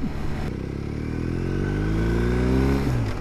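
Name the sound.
motorcycle engine revving in first gear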